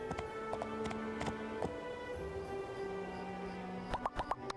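Horse hooves clip-clop in steady rhythmic taps in the My Time at Portia video game, heard alongside game music, with a quicker cluster of hoofbeats near the end.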